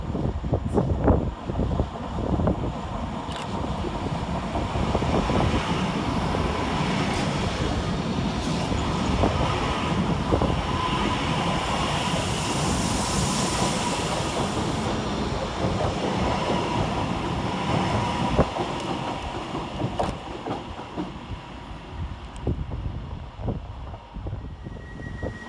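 Northern class 331 electric multiple units 331016 and 331007 roll through Edge Hill railway station in Liverpool, a steady close rumble of wheels and carriages with wind buffeting the microphone, lasting throughout before easing slightly at the end; no talking.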